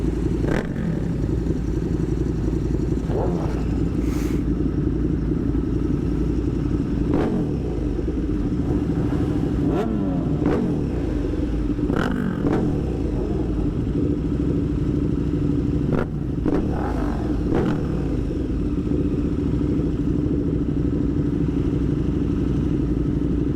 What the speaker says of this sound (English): you can't beat the noise of this KTM twin